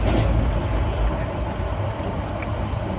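Steady, loud rumble and rattle of a moving passenger train bound for Delhi, heard from inside a carriage, continuous throughout with no clear voices.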